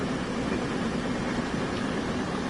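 Train Sim World 2020 train running with a steady, continuous low rumble and rolling rail noise throughout, close and unbroken, with no voices.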